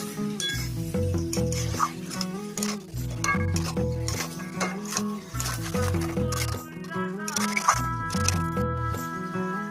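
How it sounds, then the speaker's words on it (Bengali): Chicken frying in a pan with salt, turmeric and Kashmiri red chili powder: a steady sizzle with rhythmic scraping and clinking of a utensil against the pan, over continuous background tones. "মশলাটা আমি চিকেনের সঙ্গে ভালোভাবে কষিয়ে নেব।"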